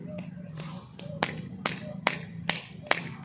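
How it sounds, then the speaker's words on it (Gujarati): Bare feet are clapped together for acupressure in a steady rhythm of about eight sharp slaps, each louder than the last toward the end. A faint voice murmurs underneath. "હવે પગની તાળી જોજો સાંભળજો તાળીનો અવાજ જોજો"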